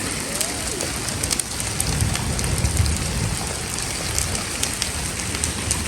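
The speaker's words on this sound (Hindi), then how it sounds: "अचानक से जो है वो ज़्यादा बारिश शुरू हो गई" Heavy rain pours down in a dense, loud, continuous hiss of drops striking surfaces, steady throughout with no let-up.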